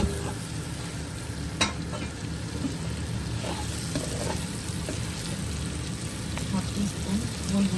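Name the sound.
fried shrimp being added and stir-fried in a pan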